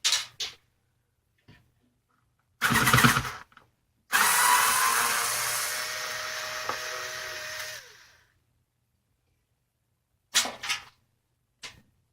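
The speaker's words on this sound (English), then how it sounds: "The webs are wrapping around my drill as it turns." Power drill backing screws out of speakers, a few short bursts and then one long steady whir of about four seconds that stops abruptly, heard close up with silence in between.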